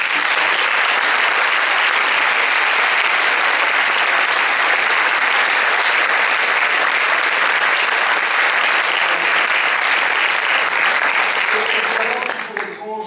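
An audience in a cinema applauds the film technicians at a premiere screening, with loud, dense, sustained clapping from a full hall that fades slightly at the end.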